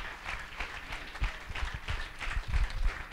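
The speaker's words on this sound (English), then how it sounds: "give this Lord Jesus of ours a hand clap" A church congregation during a Sunday service claps together in praise, a soft, fairly distant patter of many hands rising and falling, with a few louder, heavier thumps toward the end.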